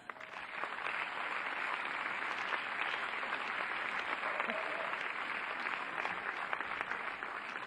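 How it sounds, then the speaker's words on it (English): A crowd at a tennis match between Robin Haase and Jan-Lennard Struff applauds Struff as he is introduced, a sustained spread of clapping from the stands at moderate distance with faint murmur underneath. "please applaud Jan-Lennard Struff"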